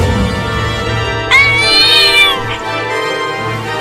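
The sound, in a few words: cartoon cat meowing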